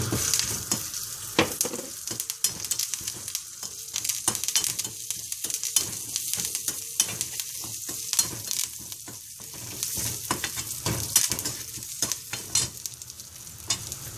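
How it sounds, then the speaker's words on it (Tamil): Dried red chillies, ginger, urad dal and curry leaves fry in oil in a pan, a steady close sizzle punctuated by repeated scraping and clinking stirring strokes of a spoon. "மிளகாய் வத்தல், இஞ்சி, உளுத்தம்பருப்பு, கருவேப்பிலை நல்லா எண்ணெய் விட்டு பொன்னிறமாக வறுத்துண்டு"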